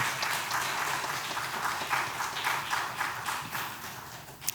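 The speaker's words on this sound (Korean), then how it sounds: "우리 하나님께 영광의 박수 올려드립니다." A church congregation at a Korean lay retreat applauds in praise, dense sustained clapping from many hands filling the room evenly from start to finish, with no talking over it.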